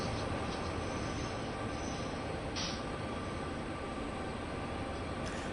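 A diesel locomotive in Train Sim World 2 on an American route rumbles steadily with a low, continuous engine drone and rail noise, with a brief hiss midway.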